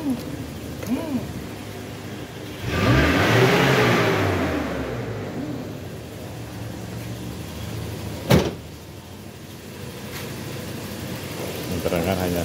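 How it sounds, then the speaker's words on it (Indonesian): A Toyota Kijang Kapsul engine revs up sharply once, a loud swelling roar that fades back to a smooth idle, with a sharp knock later and talking over the running engine. "Terdengar hanya suara injektor saja."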